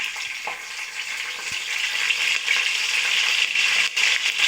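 Bay leaves and curry leaves hit hot oil already crackling with mustard seeds, a bright, close sizzle that swells and stays steady, with a few sharp pops and spatters near the start.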